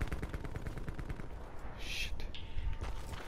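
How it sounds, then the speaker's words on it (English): Rapid bursts of automatic gunfire crackle from the Call of Duty Blackout video game, dense and fairly quiet, with a sharper burst near the end over a busy background. "I got shot at."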